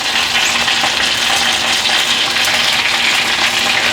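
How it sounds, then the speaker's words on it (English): Steady, dense sizzling of chicken wings frying in hot grease, loud and close, with constant crackle and no talking. "I hear that grease dripping in."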